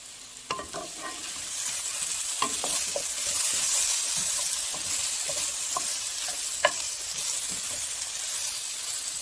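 Smoked sausage sizzles steadily in a pan for a one-pan winter meal, with a constant bright frying hiss and occasional sharper pops and scrapes as it is stirred, no voices.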